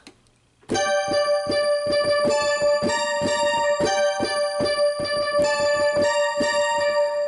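A bright synthesizer lead played on a MIDI keyboard plays a steady melody after a brief quiet start, with a pulsing hip hop beat at 79 BPM beneath, loud and clear.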